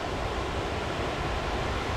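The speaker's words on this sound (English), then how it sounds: "Off to my right I can hear a creek rushing down the valley there." Broadband rushing water from a creek running down a valley fills the air as a steady, even wash with no voices, mixed with some wind.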